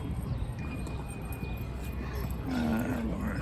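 Dogs at a Philadelphia dog park on a March day, with short barks, yips and a whimper in a busy outdoor setting, plus light background chatter.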